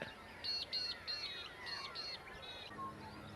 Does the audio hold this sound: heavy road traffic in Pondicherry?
no